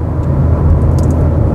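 A Peugeot 208 cruises at 100 km/h in sixth gear around 2,000 rpm, a loud, steady low engine drone with road hum heard from inside the cabin.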